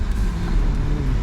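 A BMW E46 320i engine hums low and steady under light throttle from inside the car, a constant drone with no talking.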